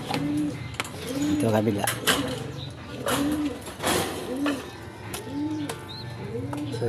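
Young racing pigeons in a backyard loft coo in repeated soft rolling calls, close and steady, with occasional chirps and a person speaking over them.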